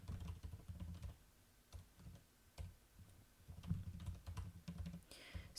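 Rapid, uneven keystrokes on a computer keyboard clatter softly and steadily with short pauses, quiet and close, with no voices.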